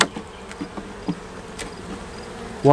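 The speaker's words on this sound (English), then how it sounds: "Just throw some smoke around to calm the bees." Bees buzz in faint, brief bursts as a beehive is opened and smoked, with a low hum throughout and a louder sound at the end.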